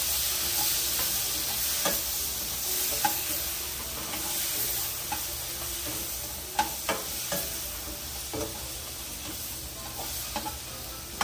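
Tofu sizzles loudly on a hot sizzling plate as it is stirred, a constant close crackling hiss broken by repeated sharp clinks and scrapes of the utensil.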